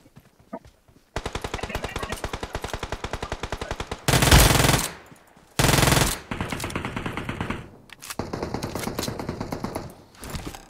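Rapid Uzi automatic fire in the mobile game PUBG Mobile, several loud close bursts of fast, even shots separated by short pauses, with louder blasts midway.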